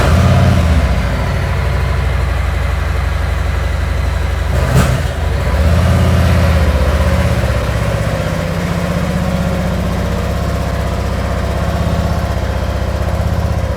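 A 2021 Harley-Davidson CVO Ultra Limited motorcycle with a new Klock Werks windshield rumbles steadily on a ride, loud and close, with a brief swell partway through and no talking.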